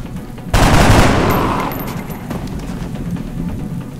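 Burst of automatic gunfire from the video game XCOM: Enemy Unknown: a sudden loud rattling volley that decays into a lingering rumble and scattered smaller reports, with no talking.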